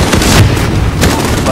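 A missile launch in the shooter video game Call of Duty: Modern Warfare, a brief heavy boom and rushing whoosh against loud game noise, with radio chatter around it.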